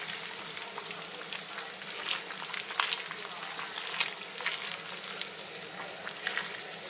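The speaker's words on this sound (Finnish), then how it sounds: "Kiehuu meidän kaalisoppa." Cabbage soup bubbling in a pot, a steady close crackling and sizzling hiss with scattered brighter pops, alone without voices.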